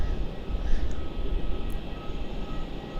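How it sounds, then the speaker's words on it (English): A plane spotted at Melbourne Airport in fog rumbles during its takeoff roll from runway 27, a low, distant, steady roar with faint higher engine whine. "Virgin heading off to Sydney or just take off 27?"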